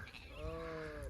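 A single short sheep bleat, wavering and fairly faint, rises from a flock let out onto clean grass, heard alone over a low background hum.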